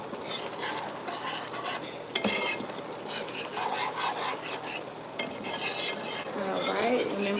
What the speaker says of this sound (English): I'm gonna go ahead and stir it up